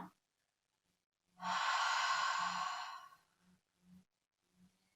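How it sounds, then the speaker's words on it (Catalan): A single slow, breathy exhale through the mouth, like fogging a pane of glass, lasts about two seconds and is followed by soft low thumps. "va molt bé exhalar per la boca"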